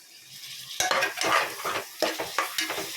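Chopped tomatoes hiss and sizzle in a hot pan while a utensil stirs and scrapes in bursts, close by with no talking.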